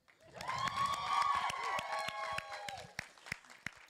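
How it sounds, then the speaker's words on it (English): A crowd at a school Christmas concert breaks into loud clapping and cheering with children's voices, swelling quickly then fading to a few isolated claps. "give yourselves another huge round of applause"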